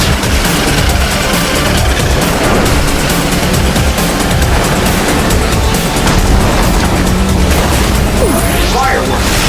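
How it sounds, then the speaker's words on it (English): Fireworks bursting at a year-end show, a dense, continuous barrage of loud booms, crackles and pops filling the whole stretch, with voices shouting over the din. "Fireworks!"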